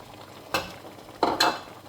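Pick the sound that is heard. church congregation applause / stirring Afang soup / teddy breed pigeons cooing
stirring Afang soup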